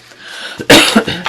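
A person coughs a few times in quick succession, close and fairly loud, with short harsh bursts after a quiet start.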